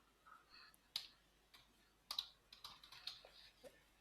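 Someone types a Stata command on a computer keyboard: quiet, irregular key clicks in short bursts, with sharper taps now and then, close by in a quiet room.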